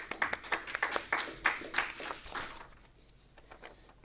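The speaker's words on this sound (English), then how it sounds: "you certainly deserve this round of applause" An audience at a journalism awards presentation claps for the winners, with a handful of distinct, fairly close claps standing out at first before the applause thins and fades into quiet room tone.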